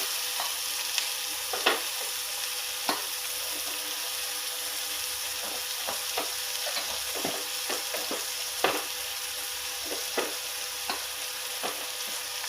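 Two onions and ten green chillies frying in a pan for an Andhra-style gongura tomato curry, a steady soft sizzle broken by scattered spatula scrapes and taps as the pan is stirred.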